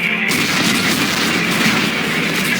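Explosives detonating in the Dead Space game, a loud sustained blast with dense, rumbling roar that fills the whole moment without letup, no voices over it.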